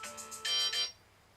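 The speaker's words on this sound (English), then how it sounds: "I've got a phone call." A mobile phone rings with an incoming call in a workshop, a bright melodic ringtone of short repeating tones that plays clearly for about a second before cutting off.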